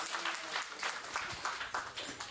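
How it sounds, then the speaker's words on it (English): Applause at a church birthday and wedding anniversary celebration, a crowd clapping fairly steadily with a few louder bursts, close and at moderate volume, after a guest bishop is introduced. "Round of applause."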